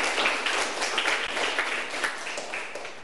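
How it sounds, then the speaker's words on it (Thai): Audience in a classroom-style talk clapping for themselves, a dense, even burst of many hands that stays steady and fairly close for about three seconds, with no talk over it. "ปรบมือกับตัวเองค่ะ"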